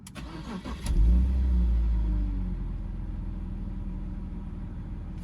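A BMW car engine with 94,000 miles cranks and catches, then settles into a steady, deep idle rumble that continues evenly, close by with no voices.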